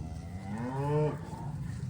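A single drawn-out moo from cattle out on a meadow, close and clear, swelling and then fading over a couple of seconds with no talking.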